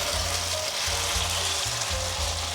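Grated potato and egg fry in an oiled pan, giving a loud, close, steady sizzle with crackling spatter and a low hum underneath; there is no talking.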